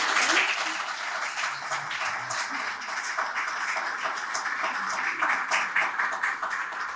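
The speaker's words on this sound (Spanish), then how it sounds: "Por favor, un último aplauso para nuestros tres extraordinarios." An audience gives a final round of applause at the close of an investment-fund event, dense steady clapping from a crowd that fills the room and carries on throughout.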